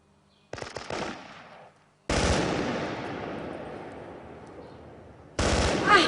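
Rapid machine-gun fire in a Kurdish film scene comes in loud close bursts: a short volley, a long sustained rattle that slowly fades, then another sudden burst, with brief silence between.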